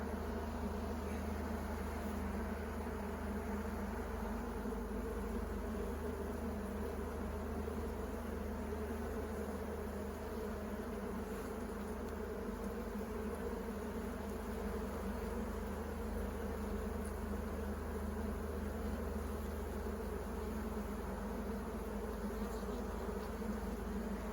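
Dense, steady buzzing of many bees in an open hive during inspection, a continuous close drone that never lets up.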